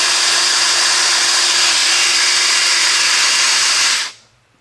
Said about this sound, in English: We didn't hear the drill drop off